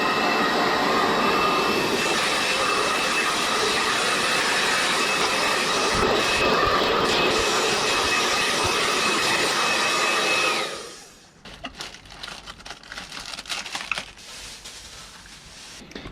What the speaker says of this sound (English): give this a quick blast with a hairdryer